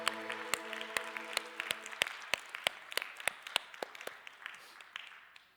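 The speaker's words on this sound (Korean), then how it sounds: "하나님께 영광의 박수" A church congregation claps in praise, starting over a held musical chord that fades away, then leaving sharp, fairly regular claps that thin out and grow quieter toward the end.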